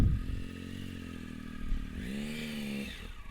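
A motorcycle engine idles roughly, then revs up with a rising, sustained roar before easing off, close and loud with no talking.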